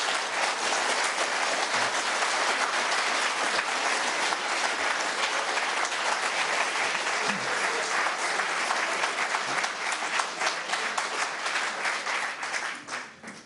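Sustained, dense applause from an audience in a town hall council chamber, steady and loud throughout before tapering off at the very end.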